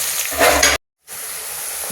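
Ingredients sautéing in a pan for ghee rice and chicken gravy, a steady close sizzle and frying hiss that cuts out briefly and then resumes, with no voices.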